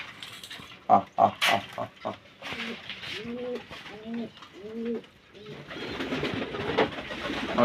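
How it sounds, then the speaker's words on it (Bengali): Heavy pigeons kept indoors, waiting to be fed, give a run of clear, close coos in steady repeated phrases, with sharp fluttering and scuffling bursts just before and a rustling wash of movement toward the end. "ভারী পায়রাগুলো খেতে দেব তারাও কেমন খাবার জন্য আমার দিকে তাকিয়ে আছে"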